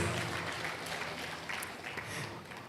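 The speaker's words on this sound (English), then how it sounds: "Please, a round of applause." Steady applause from an audience at a lecture, a dense wash of many hands clapping at once, moderately distant and continuous throughout.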